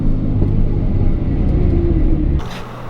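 A loud, deep exhaust from a 1000 hp RB26/30-engined car rumbling steadily at close range, then dropping off abruptly near the end as the engine settles.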